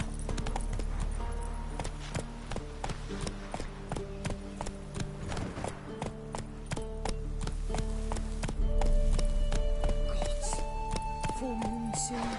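Hooves of Roach, a horse in a video game, clip-clop in a steady walking rhythm, fairly close and clear, running under a bed of game music with occasional voices.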